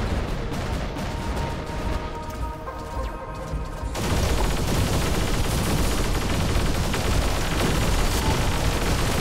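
Gunfire rattles from battling robots in the video game War Robots, a busy barrage of shots and blasts that grows louder and denser partway through and continues without pause.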